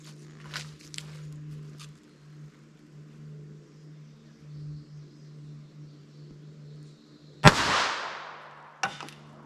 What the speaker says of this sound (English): we'll run our 32 ACP over the chronograph, 71 grain full metal jacket flat point